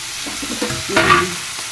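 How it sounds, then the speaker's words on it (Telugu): Green chillies and tomato pieces drop into hot oil in a pan and start to fry, with a short burst of sizzling and a clatter; brief, close and fairly loud, with no speech. "పచ్చిమిరపకాయలు మనం ముందు నూనెలో వేసేసుకోవాలి దాని మీద ఇదిగో టమాటా ముక్కలు కూడా ఇలా వేసేసుకోవాలి"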